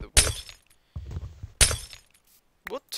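Glass blocks breaking in a hardcore Minecraft world: two sharp shattering crashes about a second and a half apart, with a quieter clatter between them and a brief voice near the end.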